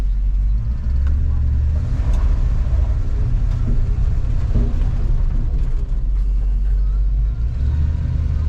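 Dodge Ram W150 pickup with a failing transmission idling in reverse gear, a loud steady low engine rumble close by with no break throughout.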